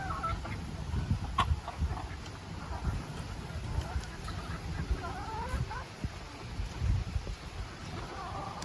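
Chickens cluck steadily around a farmyard that a single duck shares with them, with short overlapping calls at moderate distance over a busy low background.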